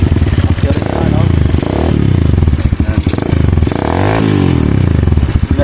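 Kawasaki Wind 125 motorcycle engine after a tune-up that fixed hard starting and backfiring, running steadily up close with a couple of revs, no backfire pops, while a voice talks over it.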